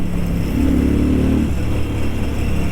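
Exhaust of a Keeway Benda V302C, a 300cc two-cylinder motorcycle with belt drive, rumbling loud and near, with a brief rise in revs partway through before settling back to a deep steady throb.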